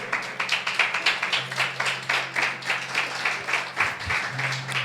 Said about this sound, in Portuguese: E você se assente glorificando e aplaudindo o nome de Jesus?